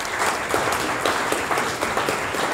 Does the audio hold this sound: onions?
no